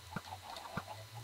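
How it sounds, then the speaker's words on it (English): Chickens clucking in a video game, two short distinct clucks about half a second apart, fairly quiet and alone. "But it looks like chickens are coming out."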